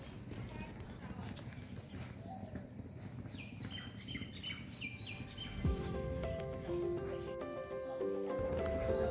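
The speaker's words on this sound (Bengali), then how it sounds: "পাখির ডাক ছাড়া আর কিছুই কানে আসছে না।" Faint, scattered bird chirps and calls sound in the quiet around a tourist lodge beside the Murti river in North Bengal. Later a steadier tonal sound joins the soft background.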